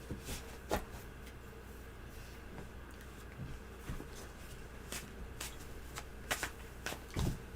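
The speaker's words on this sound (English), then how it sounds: "Okay, Mr. O, shuffle." Soft tarot card shuffling nearby, with intermittent riffling bursts and light taps spread across a quiet background.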